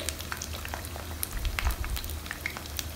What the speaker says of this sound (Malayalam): ലോ ഫ്ലെയിമിൽ എണ്ണ വെച്ചിട്ട് എണ്ണ കുക്ക് ചെയ്തിട്ടെടുക്കണം.